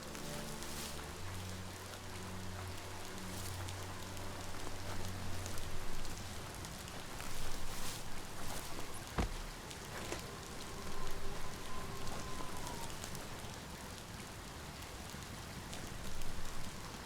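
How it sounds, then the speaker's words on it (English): Steady rain falls in the game Biomutant, a dense, even hiss of drops on surfaces that swells and eases in loudness, with a brief low thump and a faint tone partway through and no talking. "Rain gets any worse, you could dissolve."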